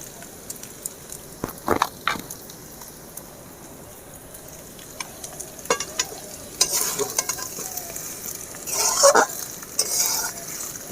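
Cooked pasta stirred in a pan with fried egg and chicken, scattered scraping and clinking spatula strokes over a faint sizzle, growing busier and louder toward the end.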